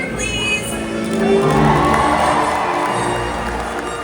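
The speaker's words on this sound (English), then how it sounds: "so when you see him, give him a cheer, please." Crowd at an orca show cheering and shouting as the killer whale leaps, a dense wash of voices and whoops that swells in the middle and stays loud throughout.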